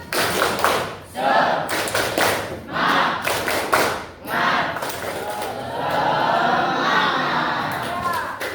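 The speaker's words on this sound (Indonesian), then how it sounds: "kita tutup dengan tepuk semangat ya. Tepuk semangat." A group performs the tepuk semangat spirit clap, loud rhythmic clapping in bursts broken by short pauses, with voices shouting and chanting along during the pattern.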